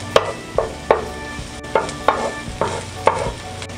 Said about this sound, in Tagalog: Ngayong medyo mabango na po ang ating bawang ay hahaluin natin.